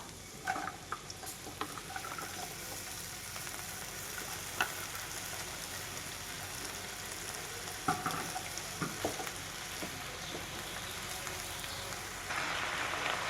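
Chopped greens go into a pan with lightly fried onions for a leafy vegetable fry with pumpkin and eggplant. A soft, steady sizzle and crackle carry on with occasional stirring clicks, and the frying grows a bit louder near the end.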